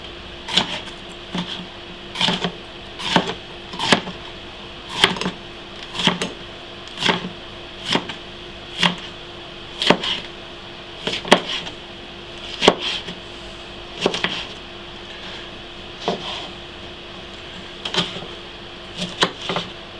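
Harissa ingredients being mashed in a mortar with a pestle, heard as steady, evenly spaced knocks roughly every second, close and fairly loud, with nothing else over them.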